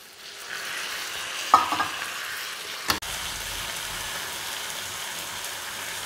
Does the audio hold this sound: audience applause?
no